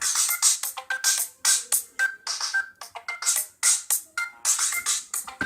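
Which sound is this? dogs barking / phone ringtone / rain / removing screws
phone ringtone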